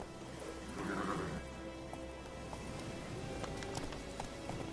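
Roach the horse in The Witcher 3 video game: a whinny rises early, then hoofbeats clip-clop at a steady pace under faint background patter, moderately quiet throughout.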